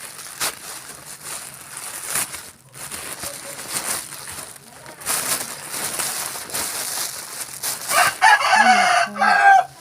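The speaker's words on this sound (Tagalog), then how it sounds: "Ang ingay ng manok." Chickens crowing and clucking nearby, a rooster's call rising loudly near the end over scattered clucks and background household noise, fairly close and insistent.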